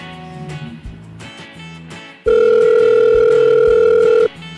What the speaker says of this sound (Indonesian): Kak Firna telepon dulu ya